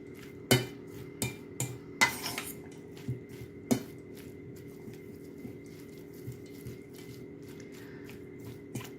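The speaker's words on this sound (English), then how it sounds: "you want to make sure that all these ingredients are really well mixed" Vegetable pancake batter being mixed with a fork in a bowl: several sharp clinks and scrapes early on, then softer, sparser stirring taps against a quiet background.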